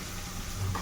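Sliced onions sizzle in hot oil in a pan while cooking Odia-style simba rai, a brief, close, steady frying hiss with a soft stirring scrape.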